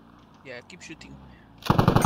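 A burst of machine gun fire from a CROW remote weapon station in Arma erupts loud and rapid at the end, following a moment of faint voices and background game noise.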